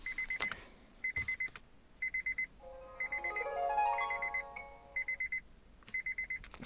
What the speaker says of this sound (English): Okay, ignore the beeping.